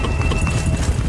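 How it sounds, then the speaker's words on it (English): Horse hooves clip-clopping at a steady trot, loud and close, set against a dense background sound with no voices. "The horse."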